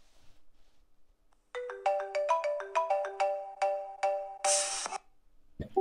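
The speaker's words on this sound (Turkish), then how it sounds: "Evet arkadaşlar, çalıyor telefonu." A phone in the farming video game Farming Simulator 22 plays a melodic ringtone, a repeating bright chime pattern of about three cycles, clear and alone, ending in a short burst of noise.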